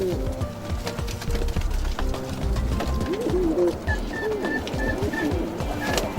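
Several Blondinette frill pigeons coo repeatedly in a breeding loft, with overlapping soft throaty calls and a few higher chirps and rustles, all fairly close and without any talk.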